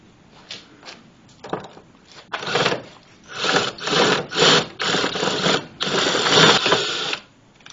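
A drywall screw being backed out of the headlight of a 2007 Saturn Ion, heard as a series of rasping, grinding bursts that grow louder and longer, close by with no talking.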